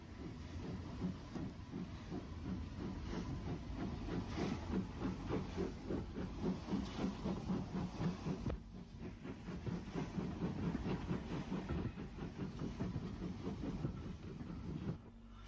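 An Isle of Wight steam train pulls away from Ryde Esplanade toward Pierhead in the 1950s or 60s, a steady rhythmic chuffing and rumble of rail noise with hiss, continuous and fairly close throughout.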